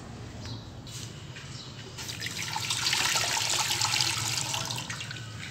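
Water pours steadily into a cooking pot for boiling rice, a continuous splashing rush that swells louder midway and then eases slightly, heard alone without talk.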